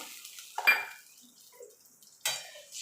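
A bowl rinsed with water in a kitchen while cooking a paneer curry, two brief clinks of metal and splashing against quiet background, faint and close.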